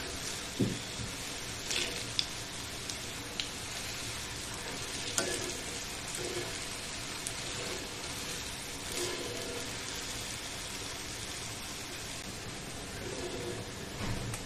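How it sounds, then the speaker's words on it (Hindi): Rajgira (amaranth flour) bhajiya deep frying in hot oil, a steady dense sizzle with occasional louder crackles and stirring clinks as the fritters are turned, no voices. "अलटते पलटते हुए अच्छे से गोल्डन ब्राउन होने तक इसे फ्राई करेंगे"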